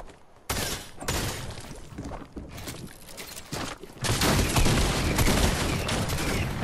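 Repeated shotgun blasts from Fortnite gameplay, loud and close, come in rapid bursts with short gaps and then a sustained barrage of gunfire near the end.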